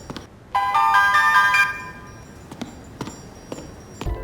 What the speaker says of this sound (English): The player gets a phone call, which you can either answer or decline